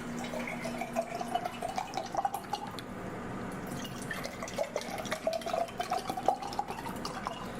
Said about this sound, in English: So I'm going to take this dead water, Hawaiian Mountain Fresh, pour them into these mason jars.